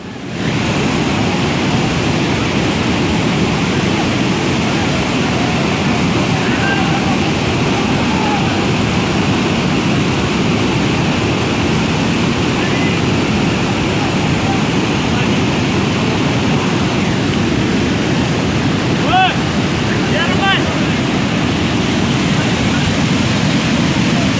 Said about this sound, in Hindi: पानी रोड में जा रहा है।